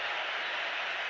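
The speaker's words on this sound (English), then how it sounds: "Listen to the response of the England fans for Wayne Rooney" England football fans in a stadium crowd applaud during the Croatia–England Euro 2004 match, a brief dense wash of clapping heard at a distance.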